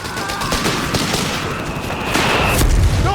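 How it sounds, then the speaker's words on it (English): Machine gun fire in the WWII strategy game Company of Heroes 3, with loud, dense rattling bursts and booming explosions mixed into a continuous chaotic battle din. "Bloody machine gun!"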